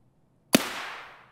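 A single sniper rifle shot fired in a video game, a sharp loud crack with a long decaying reverberant tail, heard alone.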